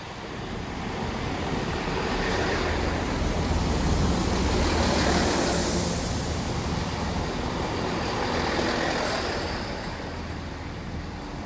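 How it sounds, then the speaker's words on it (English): A Great Western Railway Class 166 diesel unit on a Portsmouth Harbour to Cardiff Central service pulls into the platform at Bradford-on-Avon, a steady broadband rumble and rush that swells and then eases as it arrives. "coming in now is a Great Western Railway service from Portsmouth Harbour going to Cardiff Central"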